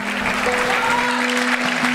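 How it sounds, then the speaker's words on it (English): Church congregation applauding Bella at a baptism, with steady, dense clapping throughout and a faint tonal hum running underneath. "Everybody give a round of applause for Bella one more time"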